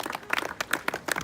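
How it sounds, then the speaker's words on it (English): At an outdoor birds of prey show, a small audience gives a brief, scattered round of applause for Jessica, with individual claps standing out close and uneven rather than merging into a roar. "give Jessica a round of applause, guys"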